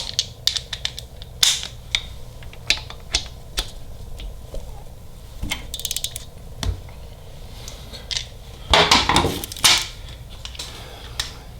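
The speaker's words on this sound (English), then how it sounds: "And then we're going to break the torque off of each bolt." A wrench breaks the torque loose on Harley-Davidson Milwaukee-Eight engine bolts during a cam install, giving sharp clicks, ratcheting ticks and creaks scattered irregularly, with a louder burst of clatter near the end; close and without talk.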